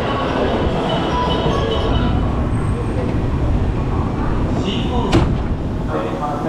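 An intercity train in Kobe, Japan rumbles steadily with broadband rail noise throughout, joined near the end by a brief sharp clank, while a person talks over it.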